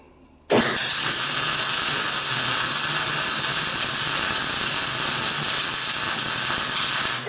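MIG welding on a classic Mini shell coated in paint, the arc snapping on abruptly and then holding a steady, loud, continuous crackling spatter close by, with no talk.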